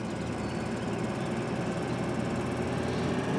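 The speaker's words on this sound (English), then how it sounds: "All right, come on, tractor." Tractor engine in Farming Simulator 2013 drones steadily with a rapid, chugging low-pitched pulse, loud and constant throughout.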